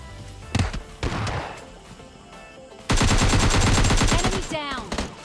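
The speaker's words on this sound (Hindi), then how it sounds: "फायर की आवाज़ आती है लेकिन बंदा नहीं स्पॉट होता है" Bursts of M4 rifle fire in PUBG Mobile Lite: a couple of short shots early, then a loud sustained automatic burst lasting about two seconds, ending with a few scattered follow-up shots.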